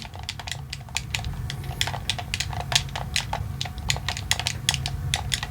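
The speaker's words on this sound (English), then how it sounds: "I'm just typing fast." Rapid, steady clatter of fingers typing fast on a computer keyboard, dense clicks close to the mic over a low background hum, with no talking.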